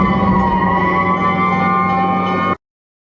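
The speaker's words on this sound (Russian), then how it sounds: "Пожарная машина." Fire engine siren from a children's cartoon about vehicle types and their sounds, a steady loud sustained wail with layered tones running alone for about two and a half seconds before cutting off abruptly.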